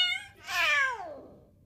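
A cat lets out a single clear, drawn-out meow in an animated Harley Quinn episode, first a short rising note and then a louder falling cry, close and alone without speech.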